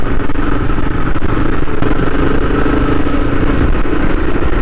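A Yezdi Adventure motorcycle is ridden, its engine a loud, steady mid-pitched rumble up close, mixed with rushing wind and clatter.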